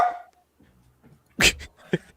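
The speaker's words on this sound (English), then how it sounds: "Dog agrees." A dog gives a short high whimper at the start, then a few louder yips or barks in a quiet room.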